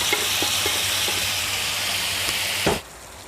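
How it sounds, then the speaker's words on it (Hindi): Marinated beef boti pieces fry in a tawa pan, a loud continuous sizzle and hiss with small stirring scrapes, fading sharply just before the end. "अब इसको अच्छी तरह भून लें ताकि ये ऑयल छोड़ दे"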